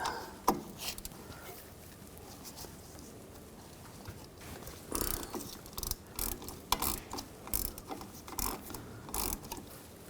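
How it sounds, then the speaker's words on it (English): Ratchet wrench with a 10mm socket loosening bolts on the rear suspension knuckle of a 2003-2008 Subaru Forester, rapid clicking pawl bursts in short uneven runs, close and clear, with a few metallic knocks. "On the back, we're going to take these two bolts out. Use a 10mm socket."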